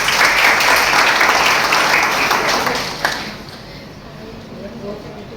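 A college audience at a BBA and BCA induction programme breaks into full, steady applause welcoming the staff, a dense wash of many hands that thins out and fades after a few seconds.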